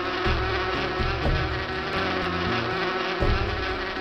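Bees buzz steadily and loudly in the video game Erben der Erde, a dense continuous insect drone with no talking.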